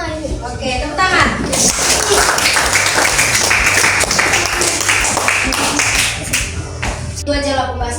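Pupils in a fifth-grade Islamic history class clap their hands together, a loud, brisk burst of clapping lasting several seconds, with children's voices and the teacher's speech around it at the start and end.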